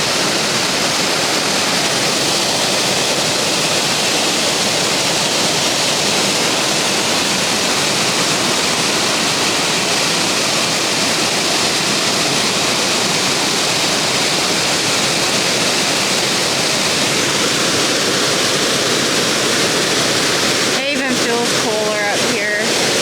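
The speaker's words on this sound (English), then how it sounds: "Which I think the waterfall is very peaceful." A waterfall in Burkes Garden, Virginia gives a steady, loud broadband rush that runs unbroken throughout, with people talking over it and a brief rustle or handling noise near the end.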